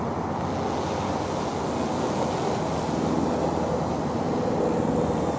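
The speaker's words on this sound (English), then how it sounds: "Even in all this wind, I've got it inverted." Steady, broadband wind rushes and buffets the microphone outdoors while a Heli-Max Axe 100 CP micro RC collective-pitch helicopter flies inverted, a continuous roar with no voices.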